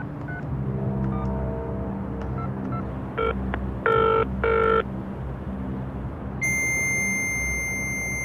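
A telephone call to the UK Ministry of Defence: a few short dialing tones, then a steady electronic ringing tone that continues to the end, over a low background hum.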